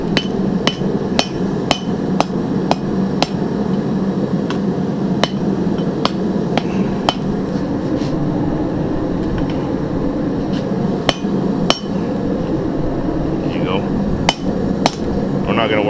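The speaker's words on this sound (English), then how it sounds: "But we're gonna hit it with the hammer now." Sharp metallic hammer strikes on hot, bent metal being straightened ring out one after another at an irregular pace, clear and close over a low background hum.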